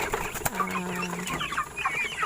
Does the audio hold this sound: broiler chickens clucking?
yes